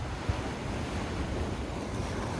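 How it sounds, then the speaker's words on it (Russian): Black Sea surf rolls in under a light swell on a cool, windy day, broad steady wash of waves with wind buffeting the microphone, continuous and fairly close, no voices. "На море легкое волнение."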